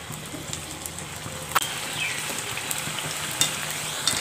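Potato samosas deep-fry in hot oil with a continuous close sizzle, broken by a few sharp clicks and taps from turning them, and no one speaks.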